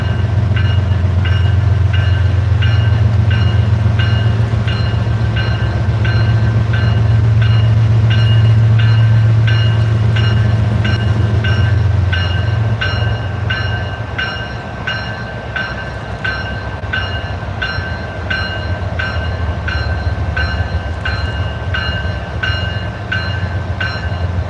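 CSX freight train I 155, led by locomotive CSXT 911, rolls past heading toward Stevenson. It makes a loud, steady rumble with a low engine drone and continuous rhythmic wheel clatter from the railcars that lasts the whole time.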